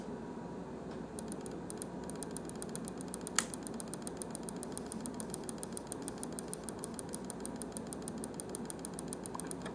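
A modified Logitech G502 mouse fitted with silent microswitches is clicked rapidly, giving a fast, regular stream of soft clicks over a steady background hiss, with one sharper snap partway through.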